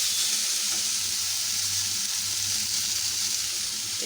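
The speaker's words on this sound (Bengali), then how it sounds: "ঠিক আছে, করলা ভাজিটা হোক।" Bitter gourd fries in a pan with a steady, moderate sizzle and soft crackle, continuous and without voices.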